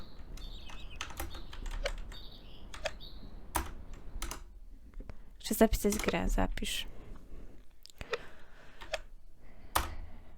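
Computer keyboard keys click in scattered, uneven taps and short clusters, close and crisp, while someone speaks intermittently over them.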